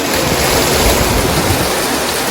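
Heavy Sunday rain pouring down outside a house, a loud dense continuous roar of water close by with no talk.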